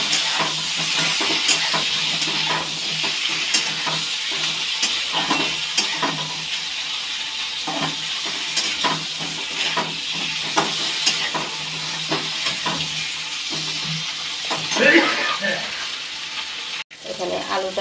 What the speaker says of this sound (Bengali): নুন হলুদ দিয়ে একটু ভেজে নেব।